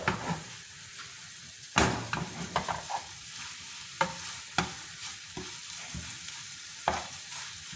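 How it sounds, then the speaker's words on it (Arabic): Onions and peppers sizzle in a hot pan, a steady fry broken by several sharp knocks and scrapes of stirring; no one speaks. "عندنا البصله مازال كطيب وعندنا الفلفله"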